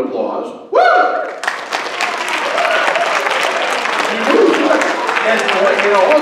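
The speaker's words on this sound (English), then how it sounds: "I think you should give yourselves a round of applause" Middle school students honored for an anti-cyberbullying campaign burst into loud, dense applause after a short cheer, sustained clapping and whoops from a close crowd filling the rest of the moment.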